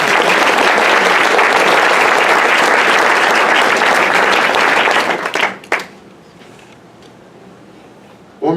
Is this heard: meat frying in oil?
no